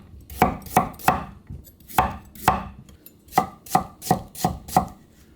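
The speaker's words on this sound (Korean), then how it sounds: "당근 약간 채 썰어주세요." A knife cuts carrot into julienne strips on a cutting board, giving sharp, crisp chops in quick bursts of two or three, separated by brief pauses. There is no talk.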